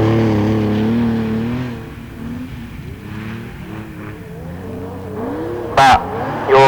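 Autograss race cars slide on loose dirt, with a steady engine drone and shifting revs from several cars at moderate distance, and a brief sharp burst near the end.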